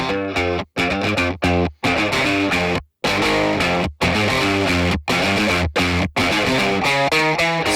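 Electric guitar played through a Neural DSP Morgan amp sim with input distortion, loud sustained chords and riffs broken by short pauses, thick and saturated, with no talking.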